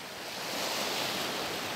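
Steady rushing wash of sea surf at a hotel beach on Djerba, a broad, continuous roar that swells slightly and holds, heard at a distance with some wind and no voices.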